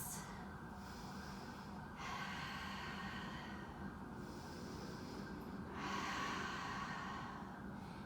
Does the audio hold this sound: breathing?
yes